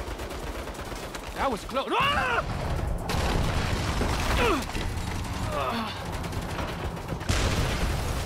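Turrets fire in Saints Row, a steady rattle of gunfire and mechanical clatter under shouting voices, with whistling sweeps and impacts throughout, moderately loud.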